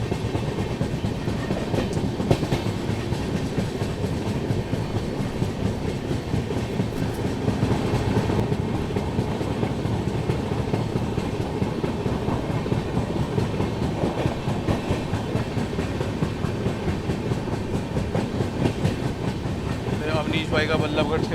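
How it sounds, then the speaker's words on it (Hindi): The 12431 Trivandrum Rajdhani Express rolls along the rails as it slows, heard from inside the coach as a continuous loud rumble with a steady wheel clatter throughout. "ट्रेन स्लो हो गई है क्योंकि रिस्ट्रिक्शन होगी"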